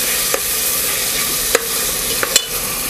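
Onion, tomato and a pinch of hing sizzle in a frying pan while a spoon stirs them, a steady loud crackle punctuated by a few sharp scrapes and taps against the pan.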